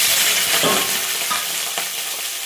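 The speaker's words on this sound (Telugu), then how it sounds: "ఇంకా ఫ్రై చేసుకుందాం." Green chillies, onion and curry leaves fry in a pan of tempering spices, giving a loud, steady sizzle with stirring scrapes running through it.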